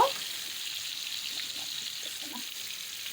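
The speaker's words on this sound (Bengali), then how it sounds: "কই মাছ দিয়ে দিলাম সেই মাছটা সুন্দর করে ভেজে নেব" Koi fish fry in hot oil in a pan, giving a steady, even sizzling hiss that stays close and constant, with a few soft clicks and no talking.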